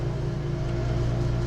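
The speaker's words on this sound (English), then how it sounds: "Pardon the noise, I have turned on the Mr." A Mr. Heater unit runs with a steady, loud mechanical drone and hum that holds constant and close throughout the short stretch, with no speech over it.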